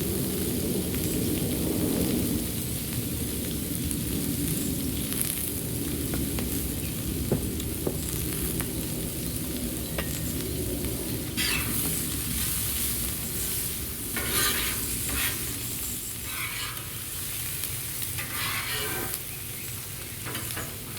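Garlic hitting a hot Camp Chef griddle during a chicken and shrimp stir fry, giving a steady, close sizzle with scraping and stirring on top, no voices.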